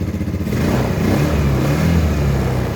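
A carbureted Yamaha Xeon scooter engine revs up close and loud under throttle, holding a steady mid-pitched drone with a slight clatter.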